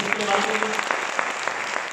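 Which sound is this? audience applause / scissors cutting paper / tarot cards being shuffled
audience applause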